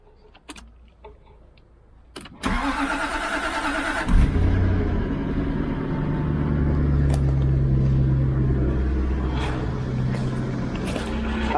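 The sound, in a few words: Jaguar XK8 V8 engine starting from cold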